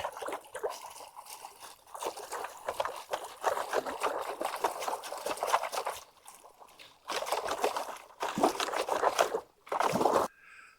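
Creek water sloshing and trickling as gravel is classified in a pan while gold panning at Blankets Creek, Georgia, steady splashy bursts with brief pauses, close and continuous, no speech.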